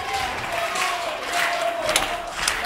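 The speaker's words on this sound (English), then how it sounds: "Crowd here on fire" Wrestling crowd at a live Wrestleforce show in Witham roaring and cheering steadily, a dense wash of many voices with scattered shouts rising above it throughout.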